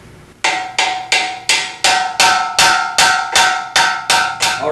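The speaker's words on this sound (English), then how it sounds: "Let's go ahead and tap these pins in." A hammer taps registration pins into a screen printing press during assembly, giving ten evenly spaced, ringing metallic strikes, close and loud, each leaving a short bright decay.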